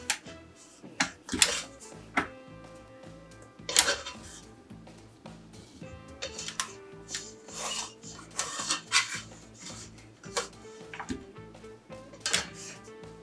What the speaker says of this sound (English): So we actually use a little scrapey tool like that.